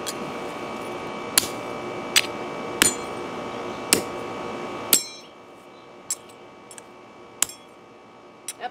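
A hammer strikes a metal hard drive platter in a series of sharp, ringing clanks, first over steady background hum, then more sparsely in near silence.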